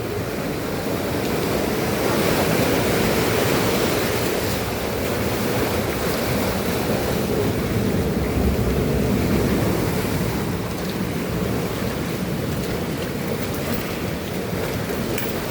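Big sea waves crash and roar continuously on a fishing trip, mixed with rushing wind buffeting the microphone, loud and steady throughout with no talking.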